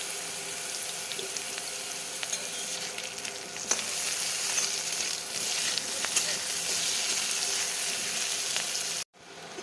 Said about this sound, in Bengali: সবজিটা কিছুক্ষণ ভাজবো। সবজিগুলো আমার ভাজা প্রায় হয়ে গেছে। এবার আমি গ্রেট করে রাখা আদাটা দিয়ে দেবো। আদাটা দিয়ে একটু নাড়বো।